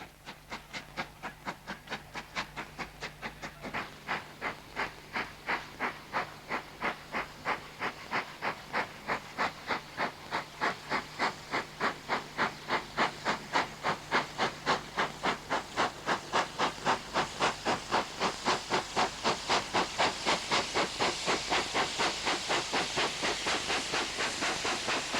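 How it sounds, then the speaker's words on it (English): A British steam locomotive working flat out gives a fast, relentless train of loud chuffs that grows denser and more hissing as it speeds up, with steady steam roar underneath for about twenty-five seconds. "the train, devoid of passengers, backing down the track and then charging forward, often working flat out with impressive smoke effects"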